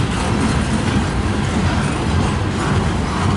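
A long CN freight train rolls past in cold night air, a loud steady rumble with rail clatter filling the whole stretch, close by and without talk.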